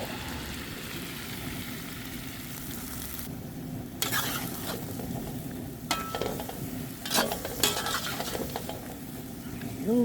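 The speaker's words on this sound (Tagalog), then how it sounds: "Maglagay na tayo ng" Chicken adobo with soy sauce in a pan sizzles steadily nearby, with a few clinks and stirring knocks of a utensil against the pan breaking through the continuous frying hiss.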